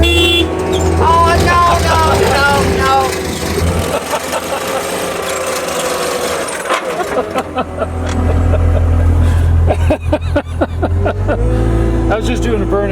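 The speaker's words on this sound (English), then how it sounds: "I was just doing a burnout" A 2023 Kubota SVL65 compact track loader doing a burnout: loud, steady diesel engine roar with grinding track noise that surges and strains. People talk and exclaim over it throughout.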